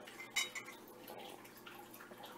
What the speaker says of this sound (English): I have a giant spoon in here, a tablespoon